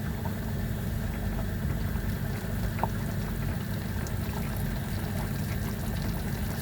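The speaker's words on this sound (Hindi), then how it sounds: "थोड़ा सा पानी डालूंगी ताकि ये अच्छी तरह से जो है वो इसमें मसाले" A little water pours into a ketchup and spice mixture in a cooking pan, giving a steady low splashing and bubbling wash with no talk.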